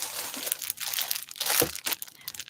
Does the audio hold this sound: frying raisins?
no